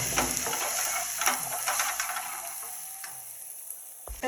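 Onions with turmeric being stirred in a hot pan, a soft sizzle with repeated scraping strokes of a spoon, ending in a sharper knock against the pan.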